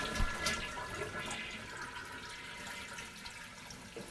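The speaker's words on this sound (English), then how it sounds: "when I push the flush lever out here, this arm comes up" A household toilet flushing after its lever is pushed, a steady rushing and gurgling wash of water, close by and moderately loud, with no speech over it.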